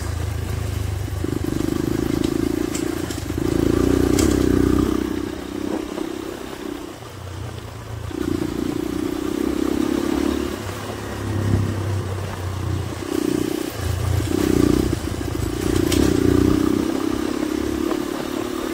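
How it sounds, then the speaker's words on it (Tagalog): An MMC 250cc motorcycle on a trail gives a close, steady engine drone with a clattering rattle running through it, rising and dipping in uneven surges for the whole stretch. "May tumutunog sa motor ko."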